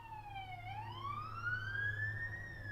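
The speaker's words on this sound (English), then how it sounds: "It's a fire truck, and it's not stopping at the neighbor's house again" A fire truck siren wails in a rising and falling sweep, moderately distant over low traffic rumble.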